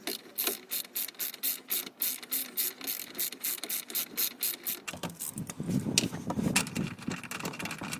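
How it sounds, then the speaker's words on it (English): A 1/2 inch ratchet on an extension bar tightening a front subframe bolt on a Ford Mondeo Mk3 ST220, rapid steady clicking of the pawl, close and crisp, then a duller grinding rattle as the bolt bites. "we're going to get the extension bar on a 1/2 inch and we're going to slowly do it up"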